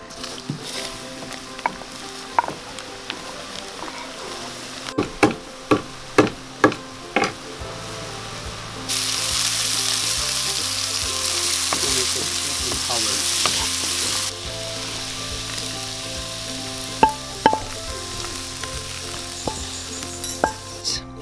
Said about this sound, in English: now we're going to put the tempeh and the vegetables in here